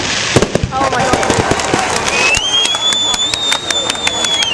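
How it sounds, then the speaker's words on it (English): Fireworks burst in a rapid crackling volley of sharp pops, loud and close, while people talk and a high whistling tone rises through the second half. "Never see the day where I clap for fireworks."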